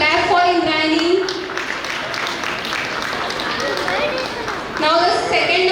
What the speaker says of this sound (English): Clap for Indrayani.